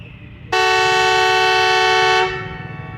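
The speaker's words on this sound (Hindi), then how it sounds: "लेकिन इस ZCU 20 की विसल की बात ही कुछ और है।" A Pakistan Railways ZCU 20 locomotive sounds one loud, sustained two-second whistle blast at a station, rich and harmonic, standing out clearly over quiet background hum before cutting off.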